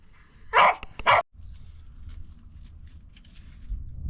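A dog gives two sharp, loud barks close by, followed by low, quiet growling and faint rumbling.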